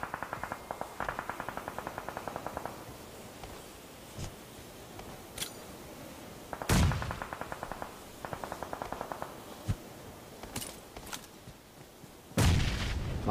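Gunfire and grenade blasts in a Chinese-language battle royale shooter match: rapid bursts of automatic fire in several runs, broken by sharp booming explosions near 7 and 12.5 seconds, with no talking.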